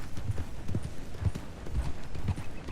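A horse in a Western video game trots with steady, evenly spaced hoofbeats, close and moderately loud, with no talking over them.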